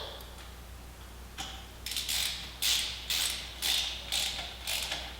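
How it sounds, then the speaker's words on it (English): A ratchet wrench tightens the exhaust header nuts while a Graves full exhaust is fitted to a 2014 Yamaha FZ-09 motorcycle. Five close, loud bursts of rapid clicking follow a quiet start, with short pauses between strokes. "I'm actually going to start tightening up the header nuts now"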